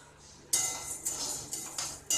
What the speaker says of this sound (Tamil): அடுத்து நம்ம துவரம்பருப்பு 1 கப் எடுத்து வச்சுருக்கோம், அதை ஆட் பண்ணிக்கலாம்